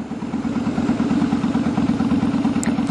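A motorcycle engine idles at a standstill with a steady, shaky low throb and fine mechanical clatter, loud and close throughout.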